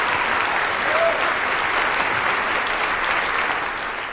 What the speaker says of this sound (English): I trust the moderation of your applause merely means you're conserving your energies for the final curtain.